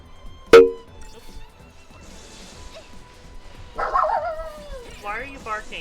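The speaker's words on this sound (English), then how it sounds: "Why are you barking?" A dog lets out one sharp, loud bark near the start, followed by a pause and then several quieter whining yips and whimpers toward the end.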